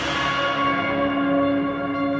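Tubular bells heavily processed with distortion and spring and plate reverb ring out as a dense, sustained metallic drone. Bright overtones shimmer and gradually decay, and no other sounds break through.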